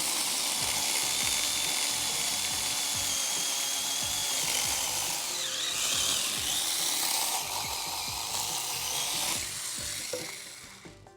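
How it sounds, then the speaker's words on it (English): A Saker mini saw cuts through pruned fruit tree branches, giving a steady close-up buzzing whine with a gritty rasp that holds for about ten seconds before cutting off. "So I do love my Saker saw just because of the convenience."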